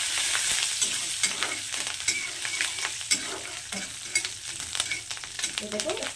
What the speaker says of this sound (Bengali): এগুলোকে একটু হালকা নাড়াচাড়া করে দেবো।